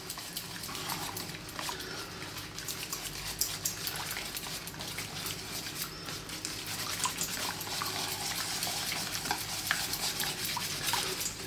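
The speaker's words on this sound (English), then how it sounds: "Then we're going to get whisk, and we're going to go in there and start to mix that up." A whisk stirs peanut butter dipping sauce in a bowl in a steady, continuous churning rhythm, with wet swishing and light clinks, close and fairly quiet throughout.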